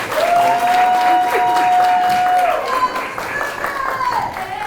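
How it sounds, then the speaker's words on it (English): Audience applause fills a JROTC military ball hall, steady broadband clapping throughout with a sustained whistle-like tone rising above it, and voices and crowd noise mixed in. "so please give her another round of applause."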